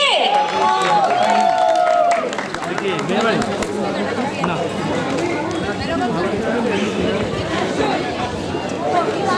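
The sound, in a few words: audience applause and cheering at sangeet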